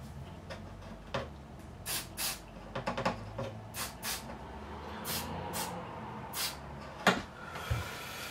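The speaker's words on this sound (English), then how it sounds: "I'll get some switch cleaner in there, give it a clean." Switch cleaner sprayed into the jack of a Crafter FX-550-EQ electro-acoustic guitar, several short quiet hissing bursts at uneven intervals with faint handling clicks between them.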